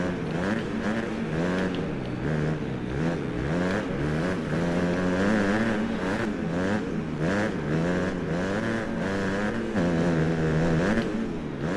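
A motocross bike engine in the MXGP Pro racing game drones and revs steadily for several seconds, its pitch rising and falling with the throttle while nobody talks.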